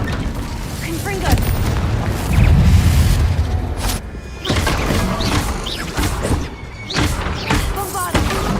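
Confringo spell explosions in the video game Hogwarts Legacy, a dense run of booming blasts and crashes one after another amid loud combat effects, with a voice calling out over them.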